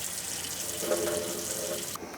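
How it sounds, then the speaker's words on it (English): Elderberries rinsed under a running kitchen tap: a steady, close hiss of flowing water splashing into a sink, cutting off abruptly near the end. "Just gonna give them a bit of a rinse first."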